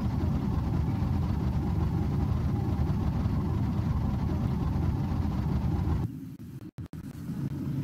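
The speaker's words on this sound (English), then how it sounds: "you can hear that nice engine sound" A Cherrier Vivace S350Q, a red sports car in BeamNG.Drive, idles with a steady low engine rumble throughout, then drops quieter near the end with a couple of brief dropouts before the hum returns.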